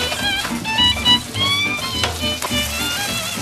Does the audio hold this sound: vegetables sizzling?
yes